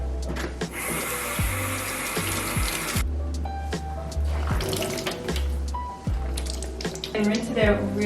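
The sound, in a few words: rinsing with running water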